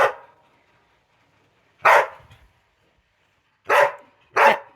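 A dog barks in three sharp, separate bursts spaced across a few seconds, close and fairly loud, with near silence between them.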